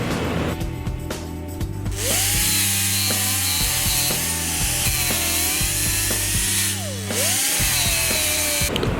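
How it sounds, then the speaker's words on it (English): A power grinder works down a weld on a vehicle build, its motor whining loud and steady with pitch dips as it bites into the metal, starting and stopping with brief gaps. "After it's welded in, it's ground down."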